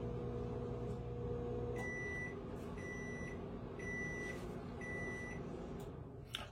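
A microwave oven baking a cake hums steadily at low volume, and a series of short high beeps repeats at intervals over the drone.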